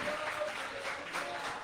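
A church congregation applauds, a short burst of steady, moderately distant clapping in a hall with no voices over it.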